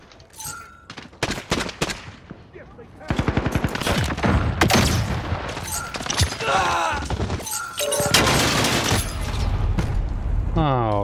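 Rapid gunfire from players emptying magazines in a Call of Duty match, bursts of loud automatic shots with breaks between, dense and close, with a player talking over the shooting.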